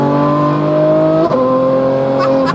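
Ferrari F12 Berlinetta V12 with exhaust valves open on the highway, a loud sustained engine tone that shifts pitch briefly midway, droning steadily from inside the car with little talk.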